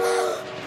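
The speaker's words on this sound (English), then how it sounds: "that train is closer than we thought" A cartoon train approaching on rail tracks gives a brief, loud burst with a sustained horn-like tone that fades within a second, with no speech.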